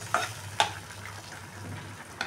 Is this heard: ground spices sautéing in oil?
yes